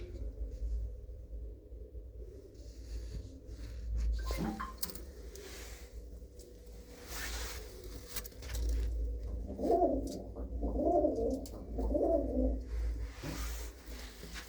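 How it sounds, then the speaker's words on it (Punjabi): A black Chinese pigeon hen and a red pigeon coo in soft, throaty rolling bursts, several in a row near the end, over a low steady hum and faint rustling. "ਕਾਲੀ ਚੀਨੀ ਕਬੂਤਰੀ ਆ ਤੇ ਲਾਲ ਸਰਾ ਕਬੂਤਰ ਆ"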